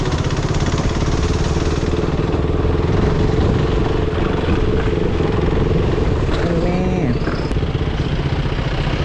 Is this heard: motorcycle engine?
yes